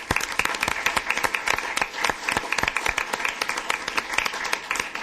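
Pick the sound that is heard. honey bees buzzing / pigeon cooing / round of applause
round of applause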